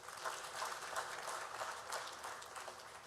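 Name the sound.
audience applause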